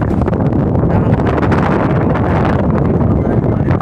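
Strong wind buffets the microphone at a tower in a steady, loud roar of low rumbling noise throughout, with no pauses.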